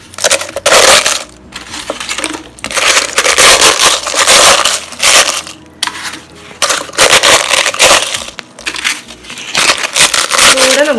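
Papadums broken by hand into small pieces to fit a mixer cup: loud, brittle crunching and crackling snaps in repeated bursts with short pauses between, close and continuous, with no voices.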